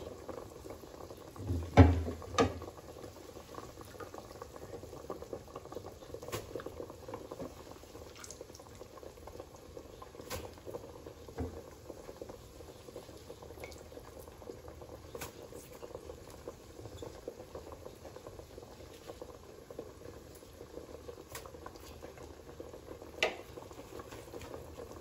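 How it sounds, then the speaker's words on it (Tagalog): Soup with malunggay leaves boils in a pot, giving a quiet, steady low bubbling with a few faint clicks and small pops throughout. "Kumukulo na siya."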